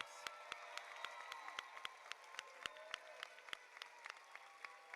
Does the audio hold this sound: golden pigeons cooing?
no